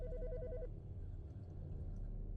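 An old-style telephone rings in a pathologist game, a repeating electronic ring that stops partway, over a low steady background hum.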